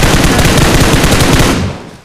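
Rapid automatic gunfire in the mobile battle royale game PUBG Mobile, a dense, very loud burst of shots lasting under two seconds before cutting off sharply.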